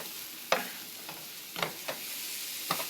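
Colombian scrambled eggs, huevos pericos, cook in a pan with a soft steady sizzle, broken by several distinct scraping strokes of a spatula at irregular intervals.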